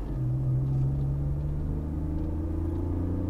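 Car pulling away from a stop, a steady, close, low engine rumble whose pitch rises gradually as it gets under way, heard alone without talk.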